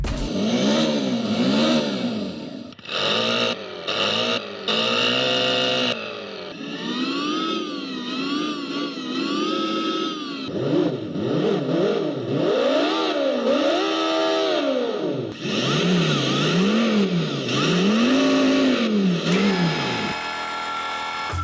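Simulated engine note from the built-in engine speaker of a Ninebot Gokart PRO Lamborghini Limited Edition, loud and continuous, with rising and falling revs, synthetic gear-shift sweeps and brief cut-outs, heard alone without talk.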